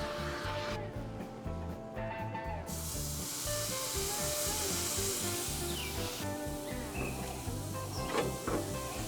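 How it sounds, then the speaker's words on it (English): Cooking oil sprayed onto a barbecue grill in short hissing bursts, mixed with scraping and rubbing sounds against the grate, close and fairly loud. "Spray this one more time with a little bit of oil."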